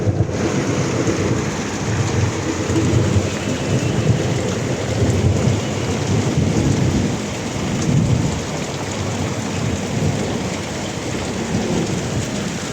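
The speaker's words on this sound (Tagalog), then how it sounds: "Ingat po kayo dahil sa mga malakas na ulan na to." Dense, heavy rain pounds down continuously in a thunderstorm with lightning, loud and near, with deep rumbling swells of thunder rolling through it.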